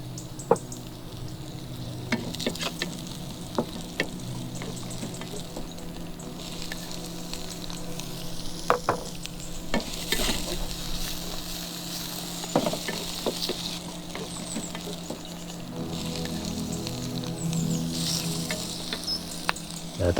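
Onions fry in a little oil in a pan, a steady close sizzle with scattered crackles and the clink of stirring, heard on its own without talk.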